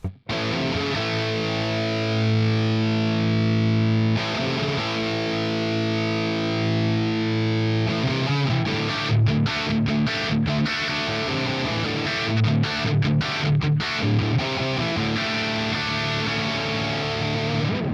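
Electric guitar runs through the crunch channel of the ML Sound Lab Amped Dual amp plugin: thick, distorted sustained chords ring out, then turn to chugging, choppy riffing with short stops. It is loud, dense and played alone.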